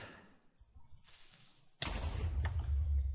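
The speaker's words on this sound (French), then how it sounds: "J'ai entendu une explosion." An explosion in the Minecraft-based game Fallen Kingdom bursts suddenly and loudly after quieter game sounds, followed by a rumbling, crackling tail.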